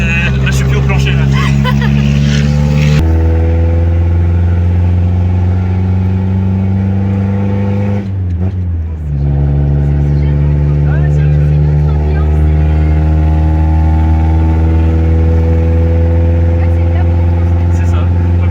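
A 1982 Toyota Cressida's engine drones loudly from inside the car, its pitch climbing steadily under acceleration, dipping briefly at a shift and then rising again, with people talking over it.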